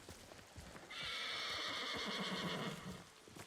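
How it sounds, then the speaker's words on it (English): A horse in the video game Ghost of Tsushima lets out a drawn-out whinny that rises and sustains for about two seconds, moderately loud with no talk over it. "Like a bad horse sound."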